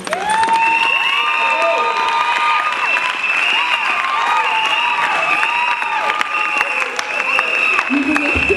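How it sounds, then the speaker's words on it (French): Applause and cheering fill a school graduation ceremony for the Exetat 2022 results, a dense crowd clapping continuously and loudly, with shouts and whistles rising over it. "Veuillez applaudir pour ces hommes et ces femmes de l'école."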